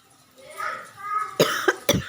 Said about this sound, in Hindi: खांसी कुछ ज़्यादा ही हो गई है मेरा